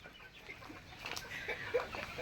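Hens on a small chicken farm in San Carlos, Pangasinan, cluck in short, scattered calls at close range over quiet farmyard background.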